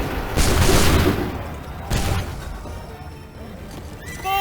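Musket volleys crack out in the Assassin's Creed 3 video game, several loud overlapping shots bursting together in the first second, then a second ragged volley with trailing rumble and battlefield clatter.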